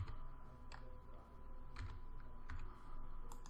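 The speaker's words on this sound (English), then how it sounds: "this is where you're going to type in the part number for your product" Someone types a product part number on a computer keyboard, producing a close, uneven run of quick key clicks over a faint steady hum.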